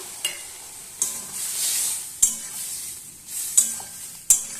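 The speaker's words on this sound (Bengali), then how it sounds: "আমি এবার দিয়ে দিচ্ছি সর্ষে পোস্ত আর একটু আদা শুকনো লঙ্কার বাটনা" Mustard, poppy seed, ginger and dried chilli paste goes into a frying pan for a spicy village-style Bengali dish of small prawns, aubergine, potato and tomato. A steady close sizzle runs under sharp spoon-on-pan clinks and scraping stirs, with no talk.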